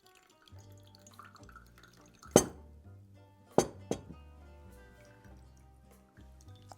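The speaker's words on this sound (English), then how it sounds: "So, let's pour. And you know what? Let's enjoy the beautiful Fortnum & Mason tea strainer." Liquid trickles and drips through a Fortnum & Mason tea strainer as tea is poured, with a few sharp clinks of metal or china on glass ringing out above the gentle pour.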